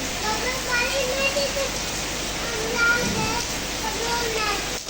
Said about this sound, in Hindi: बहुत ज़बरदस्त तेज़ बारिश